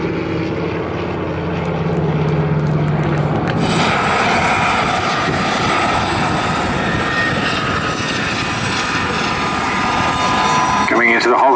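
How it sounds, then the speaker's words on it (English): Rolls-Royce Griffon and Merlin piston aircraft engines of the RAF Battle of Britain Memorial Flight at an air show, a loud steady droning roar that swells as the planes pass, with a commentator talking over it. "Sound of the Griffin and Merlin engines."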